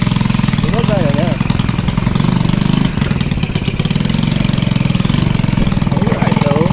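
A newly rebuilt motorcycle engine runs steadily close by, with a loud, rapid, knocking idle rhythm throughout and a slight surge in pace midway.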